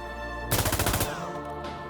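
Close, loud burst of rapid automatic fire from the VHS-2 Croatian assault rifle in Insurgency Sandstorm, roughly half a second of fast repeating shots that stops abruptly and leaves a short fading tail.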